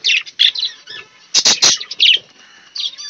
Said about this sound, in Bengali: এই যে বাচ্চা পাখি এটা